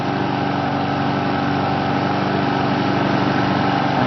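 Serviced Efco hand-propelled lawnmower with freshly sharpened blades running steadily, a loud, close, continuous small-engine buzz with no talk.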